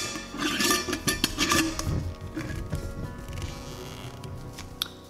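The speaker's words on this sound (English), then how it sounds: "So I'm just gonna be putting the lid on" Lid being put on a glass jar: a cluster of light clinks, taps and scraping rattles of glass and metal, close and fairly sharp, then softer handling noises.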